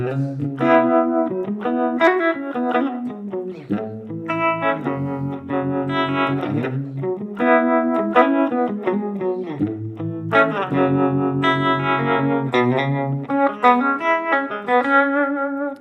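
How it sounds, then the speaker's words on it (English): A sustained, distorted electric guitar plays chords and single notes through a pedal's warbling, pulsing harmonic vibrato effect resembling a Univibe, steady and fairly loud throughout. "It also has this harmonic vibrato, which to my ears actually sounds kind of like a univibe."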